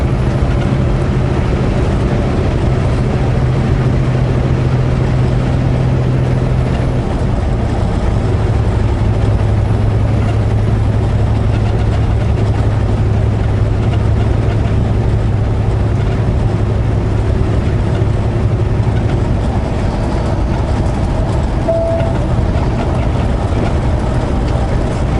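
A truck engine drones steadily with a deep low hum and broadband road noise while rolling downhill on a mountain road after the throttle is eased off, loud and continuous for the whole stretch.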